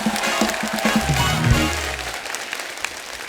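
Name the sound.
studio audience applause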